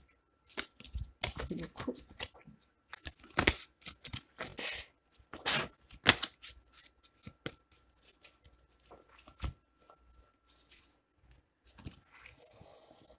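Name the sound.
shuffling tarot cards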